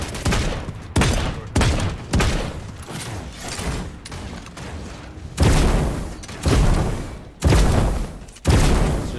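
Gunfire in a shooter video game, heavy bursts and booming shots repeating in a steady volley, loud and close, with brief gaps between blasts.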